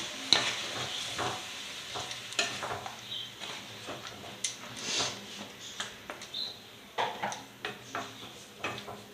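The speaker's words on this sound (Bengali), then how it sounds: "আরও একটু ভালো করে এর সাথে নাড়াচাড়া করে নেব" Bhuso chingri, a prawn curry with eggplant, is stirred in a pan with a spatula, giving quiet, irregular scraping taps over a faint sizzle, with no talking.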